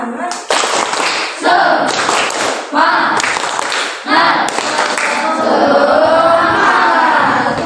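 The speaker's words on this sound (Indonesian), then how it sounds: "Tepuk semangat." A group performs the Indonesian tepuk semangat spirit clap, bursts of patterned clapping punctuating loud chanted voices in quick rhythmic phrases, close and energetic.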